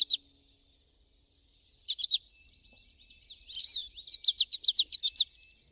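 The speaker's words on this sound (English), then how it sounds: "Their flight call sounds like they're quietly singing, "Potato chip, potato chip."" Small finches calling in flight with a quiet, high 'potato chip' rhythm: a brief call near the start, then a run of rapid paired chirps in the second half, clear against silence.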